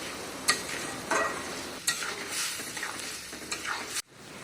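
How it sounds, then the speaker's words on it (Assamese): Fried tomato and onion paste sizzles in a pan with capsicum while a spoon stirs it in several sharp scraping strokes, up close and loud, then the sound cuts off abruptly. "এতিয়া মই যিমানখিনি বিলাহী আৰু পিঁয়াজ মই ভাজি লৈ কিনে পেষ্ট কৰিলোঁ, এই গোটেইখিনি এতিয়া মই ইয়াতে দি দিছোঁ"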